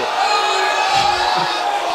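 A crowd at a charity boxing event roars and cheers loudly and close by in one sustained burst, with shouts mixed into the noise.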